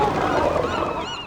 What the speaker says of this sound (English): the birds confuse the sounds people make in the tunnels with the enormous racket of their own colony